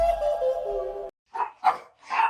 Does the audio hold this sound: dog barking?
yes